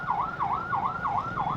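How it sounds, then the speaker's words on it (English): Ambulance siren wailing in a steady, rapidly repeating up-down cycle, loud and close in hot traffic, with no talking over it. "Being behind an ambulance"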